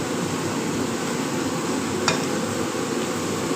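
Chopped large onions sizzle in hot oil for a mutton curry, an even continuous frying hiss with one brief stir scrape partway through, no speech.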